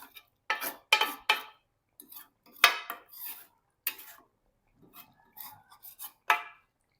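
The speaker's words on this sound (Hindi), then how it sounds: "चम्मच फेर लूँगा अच्छी तरह।" A spoon stirring chicken karahi in a pot, giving a series of separate metallic scrapes and clinks spaced out over several seconds against near silence.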